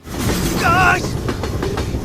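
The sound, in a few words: train passing on railway tracks in a film scene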